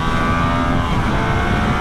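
A motorcycle fitted with Pirelli Diablo Rosso IV Corsa tyres downshifts on a race track, its engine a loud, continuous, close roar with a steady tone throughout and no voices.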